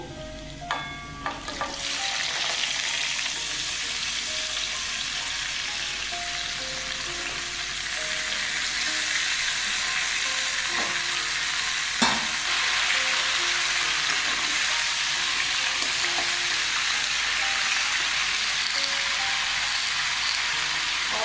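Pieces of drumstick, potato, flat bean and eggplant go into a pan with garlic tempering. A brief clatter as they land gives way to a loud, continuous hissing fry that lasts throughout.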